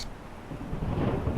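Low rumbling thunder from a video game weather mod rolls in a steady, swelling wash that grows louder toward the end, with no voices over it.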